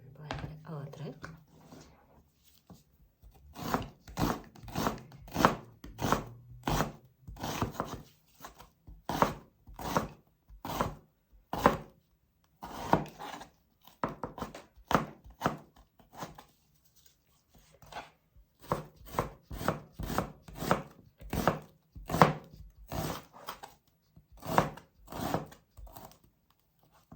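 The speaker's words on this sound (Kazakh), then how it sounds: "Жуамызды турап алдық." A knife chops an onion into half rings on a cutting board, with close, steady rhythmic strokes in bursts separated by short pauses.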